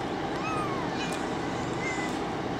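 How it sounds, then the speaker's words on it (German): Two small kittens meow in a few thin rising and falling cries over a steady noisy background, with no other clear sound. "Nur zwei kleine Kätzchen."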